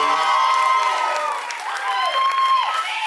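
A pageant audience applauds and cheers a candidate in a steady loud wash of clapping, with whoops and shouted voices rising over it.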